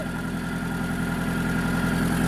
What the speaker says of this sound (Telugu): ఇంజిన్ బీటింగ్ కూడా చాలా బాగుంది